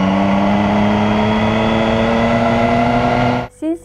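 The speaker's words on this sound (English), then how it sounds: "my motorcycle is a Triumph Street Tripper" A Triumph Street Triple 675R motorcycle engine hums steadily at close range, its pitch creeping slightly upward, then cuts off abruptly near the end, where a brief voice follows.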